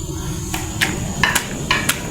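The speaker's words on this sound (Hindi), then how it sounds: "तो हम ये कुंडी डंडे में इसको पीस लेंगे" Ingredients pounded in a kundi danda mortar and pestle, several sharp knocking strikes in an irregular rhythm, close and loud over a low steady background.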